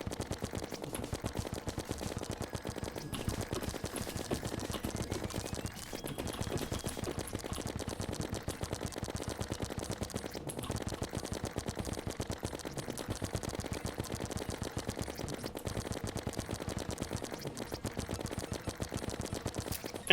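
A gun firing nonstop during a boss fight in the Terraria video game, heard as a rapid, unbroken stream of sharp repeating shots at even rhythm for about twenty seconds, loud and close, with brief momentary gaps.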